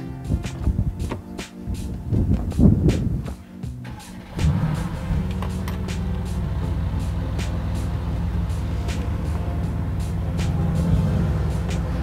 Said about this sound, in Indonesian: sekarang kita nyalain nih untuk gua dengerin suara dari mesin V8-nya